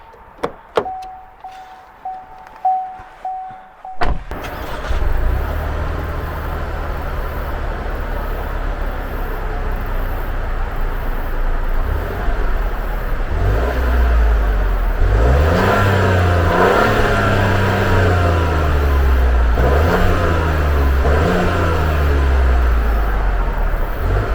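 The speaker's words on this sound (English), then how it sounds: "most of you would probably want to hear the exhaust" A Buick Encore GX ST engine cranks and fires up after a few quiet seconds, then settles into a loud rumbling idle with several throaty exhaust revs rising and falling.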